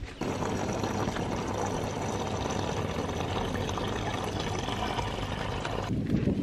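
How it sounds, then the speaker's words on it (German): Water gushes from a camper hose in a steady, close pouring stream that runs for several seconds and then stops abruptly. "Hier kommt dann also das Wasser raus."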